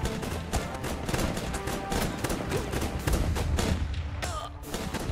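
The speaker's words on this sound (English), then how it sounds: "Mortar firing at us." Dense, rapid bursts of gunfire and explosions from the video game Guns Up!, with mortar fire among overlapping heavy blasts that keep up a loud, continuous barrage for several seconds.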